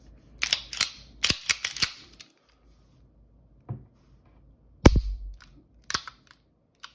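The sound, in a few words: STI Trojan 1911 pistol function test, slide and trigger clicks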